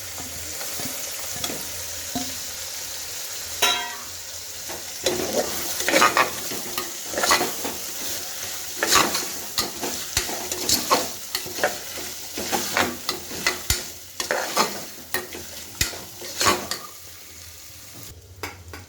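Beans, carrots, peas and cabbage stir-fry in a pan for veg biryani, with a steady sizzle and repeated scraping, clattering strokes of a spoon that grow busier toward the end.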